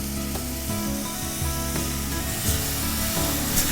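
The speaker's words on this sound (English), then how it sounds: "We're gonna sear these bad boys, just about a minute or so on both sides." Wild pork tenderloins coated in a rub sear in hot butter, giving a loud, steady close-up sizzle with a few faint knocks of the pan.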